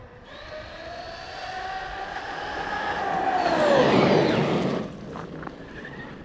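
A Traxxas Maxx V2 high-lift RC truck on 4S whirs as its motor pitch sweeps up and then drops under braking, followed by a brief reversing whine, fairly close and alone.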